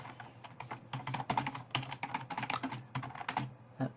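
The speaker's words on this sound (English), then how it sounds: "I'm not really good at typing recently" Rapid typing on a computer keyboard to enter a command while playing Minecraft, a close, busy patter of uneven key clicks with no talk over it.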